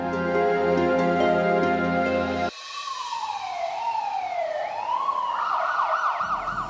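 An ambulance siren wails loud and near in Tamil Nadu during the COVID-19 lockdown. It opens with a steady blaring tone, then sweeps up and down in rising and falling glides.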